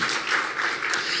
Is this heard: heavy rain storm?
no